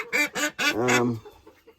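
A nesting duck quacks up close, three quick loud quacks followed by a longer drawn-out one, then quiet.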